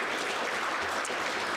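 Church congregation applauds, a brief, dense burst of clapping from many hands, steady and moderately loud throughout.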